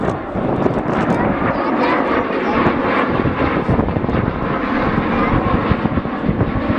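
A U-2 Dragon Lady and T-38 jets fly in formation at the Beale AFB air show, a loud continuous roar of jet engines and wind noise with talk underneath.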